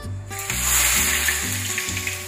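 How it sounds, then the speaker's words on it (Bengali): Onions frying in leftover pakora oil for mutton biryani, giving a steady, close sizzle of hot oil that holds at an even level for the whole short stretch. "আমি অল্প অল্প করে পেঁয়াজ দিয়ে এগুলোকে ফ্রাই করে নিচ্ছি।"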